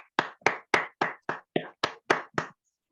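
Applause in a Zoom meeting, about nine separate sharp hand claps at an even, fairly quick rhythm, close and clear with silence between them and no talking.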